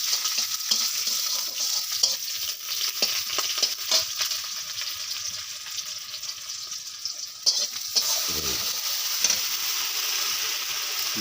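Chopped onions sizzle steadily in hot oil for a chicken curry, a close, even hiss broken by scraping stirs and a brief louder burst near the end, with no voices.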